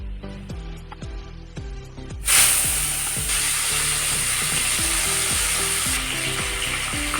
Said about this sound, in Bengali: মাছটাকে লবণ হলুদ দিয়ে মাখিয়ে ভেজে নেব